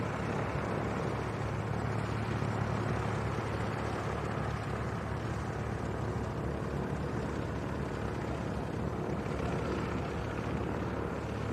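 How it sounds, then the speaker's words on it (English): Light aircraft taxiing in to refuel after landing at Leeds East Airport, a steady droning engine and propeller hum held at moderate distance under outdoor ambience. "once they land they come in for a refuel"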